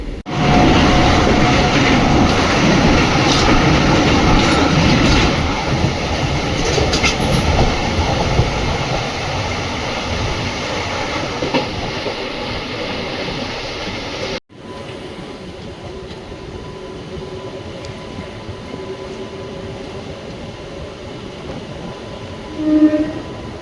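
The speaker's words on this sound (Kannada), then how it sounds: "ಇನ್ನೂರ 23 ಕಿಲೋಮೀಟರ್ ಕವರ್ ಆದಮೇಲೆ ನಮ್ಮ ಟ್ರೈನ್ ಬಂದೈತ್ರಿ ಈಗ ಇಲ್ಲಿಗೆ ಶಹಾಬಾದ್ಗೆ" A passenger train on the Bengaluru to Bidar special service runs steadily on the rails with a loud continuous rumble and wheel clatter. It drops to a quieter rolling sound partway through.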